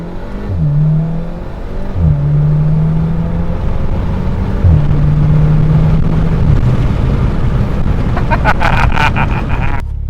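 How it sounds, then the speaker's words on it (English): A VW MK7.5R with CTS intake, turbo inlet pipe and turbo muffler delete drives off, the engine droning loudly through rising and falling rpm with gear changes, intake whoosh and a few pops near the end. "You can actually hear the intake more in race mode"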